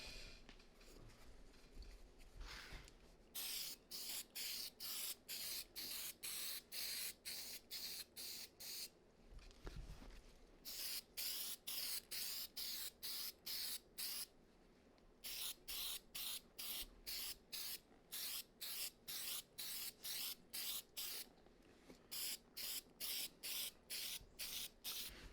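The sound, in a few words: spraying cleaner onto Timberland boots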